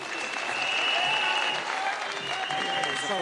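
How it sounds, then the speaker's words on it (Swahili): A rally crowd gives thick, sustained applause for Kenya's Deputy President Ruto, a dense wall of clapping with some voices mixed in. "Makofi kwa Deputy Rais."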